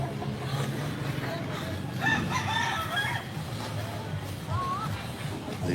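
Chickens crow and cluck at moderate distance in an outdoor setting, with several overlapping crows in the middle and a low background hum throughout.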